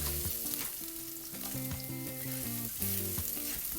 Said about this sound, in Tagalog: Isutay lang natin to for about 10 seconds at pwede na natin isunod ang onion.